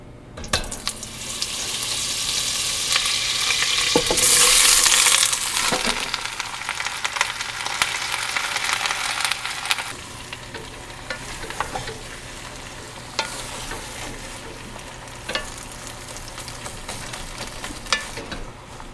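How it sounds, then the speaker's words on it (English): Onions frying in olive oil and butter in a heated pan, a steady loud sizzle that swells early then settles, with occasional clinks and stirring scrapes. "Pan is heating, I'm gonna put some olive oil in it, stick of butter, and then drop these onions in."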